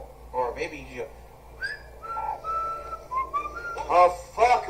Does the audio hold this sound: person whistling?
yes